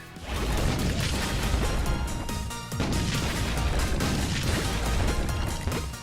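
Gameplay from Super Bomberman R, with repeated crashing blasts and pops bursting over a busy, music-like backdrop, moderately loud and dense throughout with a brief dip midway.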